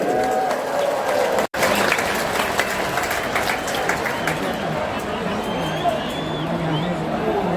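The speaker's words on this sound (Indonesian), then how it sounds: "Tepuk tangan dulu yang meriah untuk Gus Muhaimin." Audience at a political event breaking into sustained applause, dense clapping that continues steadily, with crowd noise and talk mixed in.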